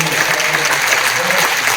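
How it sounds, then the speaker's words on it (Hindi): An audience at a devotional satsang in Jaipur gives a burst of applause, dense steady clapping filling the hall, loud and sustained, with a voice faintly audible underneath. "आपकी बात तो मैं भी आपके लिए जोरदार ताली।"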